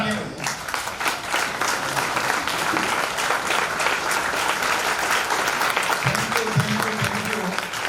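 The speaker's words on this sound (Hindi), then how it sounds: "मैं एक बार चाहता हूँ कि डिम्पल के लिए सब लोग खड़े होकर तालियां बजाएं।" An audience at a student scholarship function and principal felicitation claps continuously, dense and loud, with a brief voice beneath near the end.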